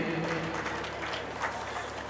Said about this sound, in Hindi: तो इस खुशी में जोरदार तालियों से, करतल ध्वनि से साथ देते रहे